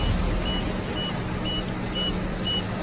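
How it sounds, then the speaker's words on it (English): Crane alarm sounding during a ditch recovery on a highway, a steady series of five evenly spaced short beeps about half a second apart over low engine rumble. "I'm hearing the alarms."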